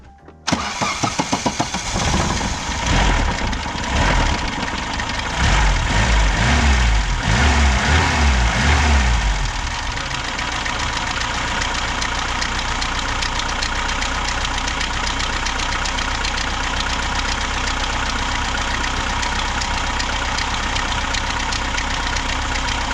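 A car engine cranks, catches and settles into a loud, steady idle with a slight timing-chain rattle. The engine has been treated with a MANNOL piston-ring decarbonizing additive.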